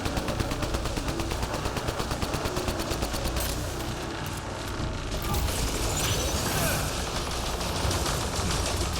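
Rapid automatic gunfire in the Mass Effect Andromeda video game, a steady rattling burst of many evenly spaced shots that carries on for several seconds amid mechanical clatter, loud and close.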